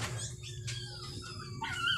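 An injured dog whimpers in thin, high, wavering whines, several short cries close by at low volume over a steady low background hum.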